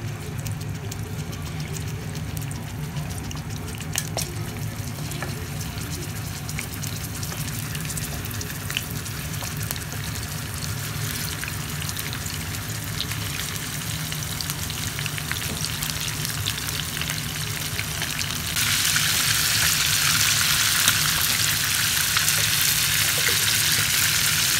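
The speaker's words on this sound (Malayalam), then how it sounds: "എണ്ണ ചൂടായി വരുമ്പോൾ നമുക്ക് കാട മസാല വെച്ച് വെച്ച കാട ഇട്ട് കൊടുക്കാം." Masala-marinated quail fries in hot oil with curry leaves, giving a steady, close, dense sizzle that grows louder and brighter near the end.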